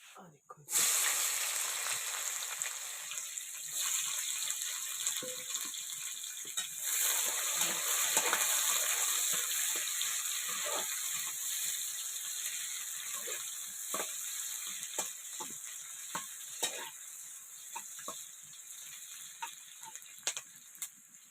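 Red chillies frying in a little oil, with a steady hiss of sizzling and scattered small pops and crackles over about twenty seconds.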